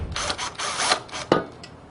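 Machine screws are driven into a slide mounting bracket while installing a Rev-A-Shelf blind corner unit, giving a few short, close ratcheting and clicking bursts with small pauses between them.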